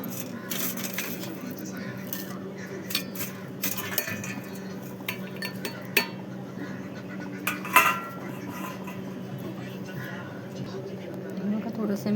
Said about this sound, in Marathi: खलबत्त्यामध्ये सगळं टाकून आणि कुटून घेऊया आपण